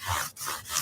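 Stratocaster frets rubbed with 320 grit abrasive, two quick back-and-forth scrubbing strokes, close and fairly soft with no talk.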